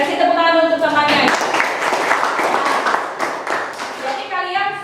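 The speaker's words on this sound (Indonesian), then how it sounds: "Kasih tepuk tangan untuk temannya." Children in a classroom during a mathematics lesson clap in a short, quick burst of many small hands for a classmate. A voice talks before the burst and again after it dies down.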